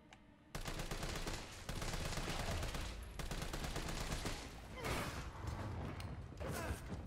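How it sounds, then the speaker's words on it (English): Sustained rapid gunfire from Resident Evil 3 rattles almost continuously at close range, with mechanical clanks mixed into the dense shooting. "Should I just open fire on it?"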